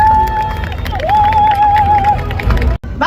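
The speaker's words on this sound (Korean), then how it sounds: "힘찬 박수 부탁드립니다" Outdoors at a Korean protest rally, a crowd cheers and claps in a loud, continuous roar, with a sustained piercing whistle riding over the noise before it breaks off abruptly near the end.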